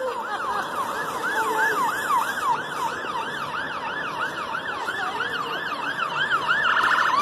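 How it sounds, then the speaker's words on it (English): An ambulance siren warbles in a fast, regular up-and-down cycle, loud and steady for several seconds over road and vehicle noise outdoors on a night out. "An ambulance."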